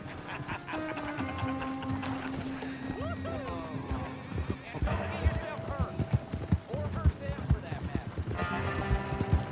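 Hooves clip-clop in an uneven trot while a horse whinnies in Red Dead Redemption 2, with speech and game background sounds mixed in.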